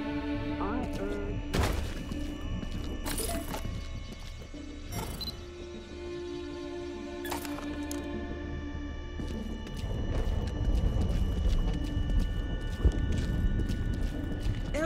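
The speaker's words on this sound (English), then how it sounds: "Elm Tree's damn near turned into a war zone by the sound of it." Scattered gunshots and bursts of fire crack through a war-zone scene in Homefront: The Revolution, sharp reports over a dense mechanical and crowd background, growing busier toward the end.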